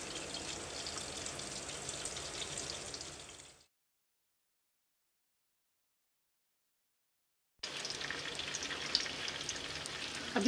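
Breaded chicken nuggets shallow fry in oil with a steady, moderately quiet sizzle and crackle, cut by a few seconds of complete silence before the frying sound resumes.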